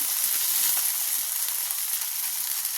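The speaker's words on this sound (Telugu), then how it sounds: "పచ్చిమిరపకాయలు ఫ్రై చేసుకుందాం" Green chillies frying in a pan of oil give a steady, close sizzling hiss that carries on evenly throughout, with faint stirring and no voices.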